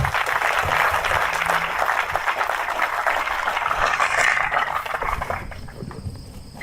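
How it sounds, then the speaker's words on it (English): An audience at a stock cropper field day welcomes speaker Vance Crowe with a warm round of applause, dense clapping that swells, then thins and tapers off near the end with some low rumbling beneath. "can we please give a warm round of applause to Vance Crowe"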